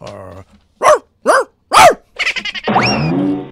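A dog gives three sharp, separate barks in quick succession while doing counting tricks, then a person starts talking nearby.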